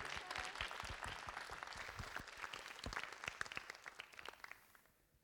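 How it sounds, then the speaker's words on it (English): Audience applause at a research conference livestream, a full crowd clapping steadily before tapering off near the end, heard fairly distantly. "One more round of applause for Jeremy, everyone."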